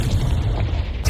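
A Confringo fire spell in Hogwarts Legacy erupts as a deep, rumbling explosion that fills the whole moment, loud and close, with a sharper burst near the end and no talk over it.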